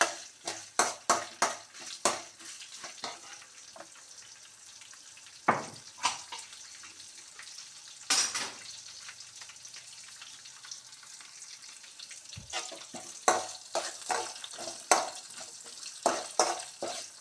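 Green chillies and spices dry roasting in a pan for tomato rasam, heard as repeated scraping and clinking of a spoon stirring against the metal pan, in irregular bursts with brief quiet pauses and a faint background hiss.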